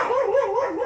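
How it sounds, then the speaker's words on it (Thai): A dog in a rural village gives one drawn-out, wavering bark that sounds almost like a short howl, fairly close and alone, with no talking. "ยเสียงหมาเห่าพี่น้อง"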